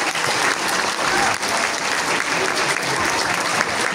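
Audience applause at a school chess tournament award ceremony, a steady wash of clapping from a sizable crowd lasting the whole stretch, with faint voices underneath.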